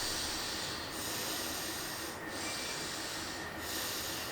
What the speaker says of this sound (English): Now close your other nostril and see how you breathe.